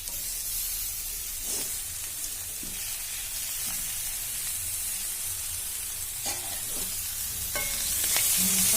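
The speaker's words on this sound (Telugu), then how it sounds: "కొంచెం వేగాక ఇప్పుడు దొండకాయలు వేసుకుందాం." Ivy gourd pieces frying in a pan with turmeric, a steady close sizzle and hiss throughout with a few faint utensil taps and stirs.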